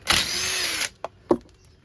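A cordless drill working on nuts on trailer brakes of a Jayco Jay Flight, giving a nearly one-second whirring spin, then two short metallic clicks or knocks, close and without talk.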